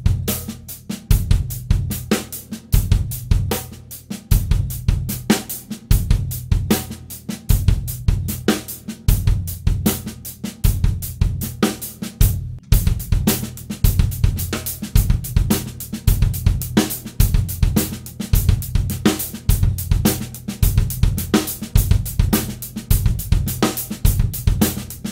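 Funk fusion groove on a drum kit, snare accents shifting onto the sixteenth notes between soft ghost strokes over a steady kick and hi-hat, played alone, close and loud for about 25 seconds.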